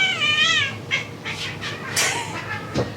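A cat meows loudly up close, a long wavering cry, followed by a few shorter, softer calls.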